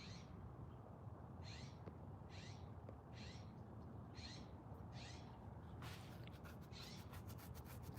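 A bird calls in a repeated series of short, evenly spaced notes over steady low background noise, followed by a faster run of clicks and rapid bursts near the end.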